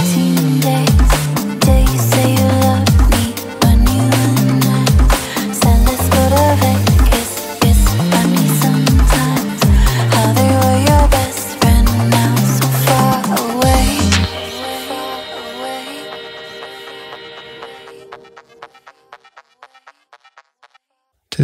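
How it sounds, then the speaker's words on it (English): Chopped, pitched vocal samples sung over a punchy electronic beat, then the beat drops out and the sounds trail off into a fading echo tail. "I then added some vocal samples, which I got from this Bloom sample pack."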